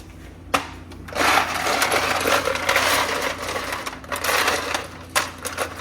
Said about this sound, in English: let's go into the fridge and we'll get our fresh ice